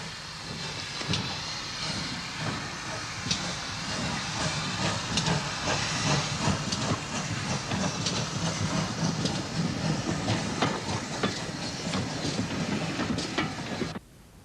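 A train hauling a special works train for track maintenance on the London Underground gives a steady, loud hissing rumble with rail clatter that runs unbroken and close, then cuts off abruptly near the end.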